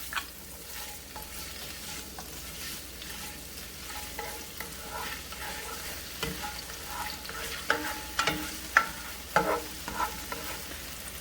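Garlic sautéing in a pan sizzles steadily, with louder stirring clatters and scrapes growing toward the end, and no voices.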